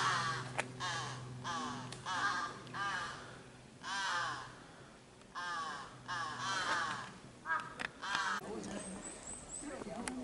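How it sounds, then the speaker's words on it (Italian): Several crows cawing repeatedly in harsh, rhythmic bursts with short gaps between calls, fairly close and loud, at a temple in Japan, with no other sounds competing. "Si sentono solo i corvi."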